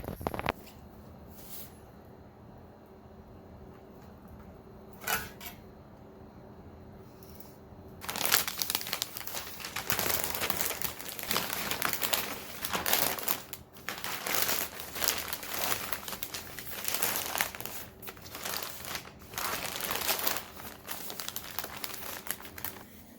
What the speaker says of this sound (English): So now I'm going to wrap the brisket with butcher paper.